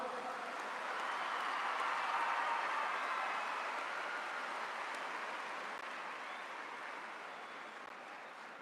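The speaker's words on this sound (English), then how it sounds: "Please welcome her on the podium with a big round of applause." Applause from a large audience welcomes the President, Smt. Droupadi Murmu, to the podium at the Global Spirituality Mahotsav, a steady broad wash of clapping that swells and then slowly eases off.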